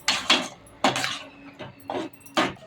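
Drumstick thokku being stirred in a cooking pot, producing about five irregular scraping, clattering strokes of a spoon against the pot, fairly close, with no talking.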